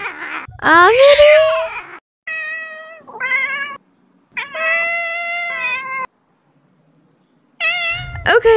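A cat meows several times in drawn-out, rising cries, loud and close, separated by short pauses.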